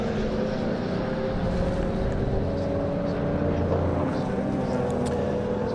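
A Nissan Skyline and a Ford Escort racing together at Silverstone, their engines giving a continuous, loud, droning roar with shifting tones as they run down the straights.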